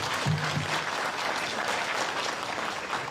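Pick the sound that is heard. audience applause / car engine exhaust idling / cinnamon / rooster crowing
audience applause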